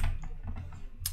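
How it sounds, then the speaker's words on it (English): A few quick key presses on a computer keyboard type a short command, close and crisp, with light clicks spaced unevenly over about a second. "So I'm gonna type clear."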